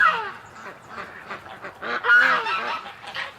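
A flock of ducks gives a run of nasal, honking quacks, several calls overlapping in irregular bursts that swell louder near the end, close by outdoors.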